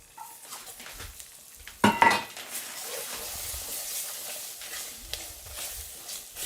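Onions for a bunny chow curry hit a hot pan with a loud clatter and burst of sizzle, then fry with a steady hiss and occasional utensil scrapes, close by and without talk.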